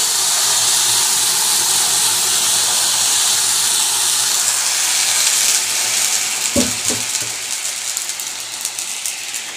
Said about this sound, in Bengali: প্রেসারে সিটি মারা এটা দিয়ে দেবো